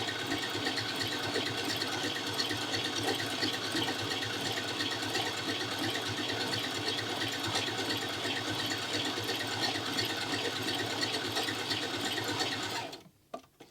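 Family 25 PRO sewing machine stitching an imitation overlock seam at increased speed, a fast, loud, continuous mechanical whir with rapid clicking, stopping abruptly near the end.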